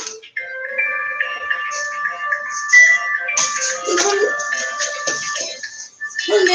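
A phone rings with a repeating electronic ringtone melody, loud and close, while a person talks over it.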